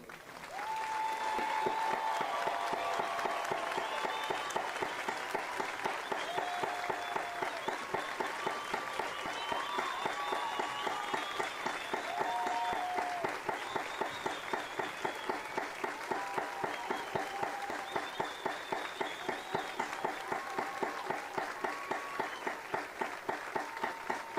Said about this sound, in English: let's give the class of 2020 a big round of applause.